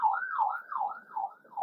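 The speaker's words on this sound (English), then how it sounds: "My apologies for the siren." A wailing siren rises and falls in a steady, repeating cycle, clear and moderately loud with no talk over it.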